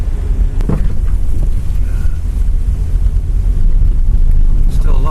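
Strong, gusty wind just after a tornado, roaring heavily across the microphone in a loud, continuous rumble with no letup.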